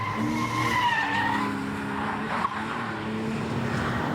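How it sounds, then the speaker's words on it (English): A car is pushed hard on a test drive, with a revving engine note rising and falling under long tyre squeals and skidding, loud and close, and no voices. "Listen to that engine."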